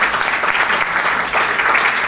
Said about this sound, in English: give a round of applause for our team